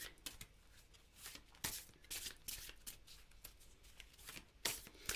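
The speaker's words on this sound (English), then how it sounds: "a good way to shuffle cards like this" Rapid, crisp riffling of a card deck, repeated in short bursts with brief pauses, close up and moderately quiet.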